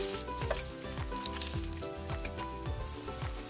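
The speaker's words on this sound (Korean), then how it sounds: "냉동실에서 꺼내와 튀깁니다." Frozen shrimp balls deep-fry in hot oil, a continuous soft sizzle and crackle running beneath background music.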